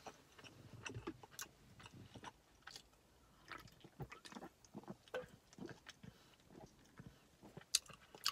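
Close, quiet chewing of a crispy, crunchy s'mores protein bar, with irregular crackling bites and soft mastication sounds repeating over several seconds.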